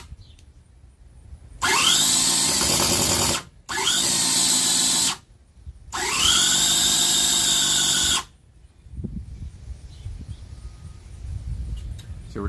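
A Cison V8 engine kit with a low battery cranking over and trying to start: three sustained whirring starter bursts of a few seconds each, separated by short pauses, loud and close, followed by quiet rumble.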